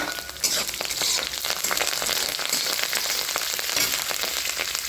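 Green chillies and curry leaves hitting hot oil with browned onions, giving a loud, dense crackling sizzle with spattering pops that runs steadily for a few seconds, close up and without voices.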